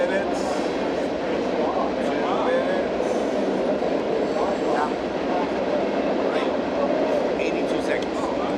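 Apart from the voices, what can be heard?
passing train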